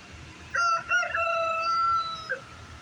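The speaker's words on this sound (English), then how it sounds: "You can see there's a chicken over there." A rooster crows once on a chilly morning by a river, giving a clear mid-distance cock-a-doodle-doo with a short extra squawk at the end over faint outdoor ambience.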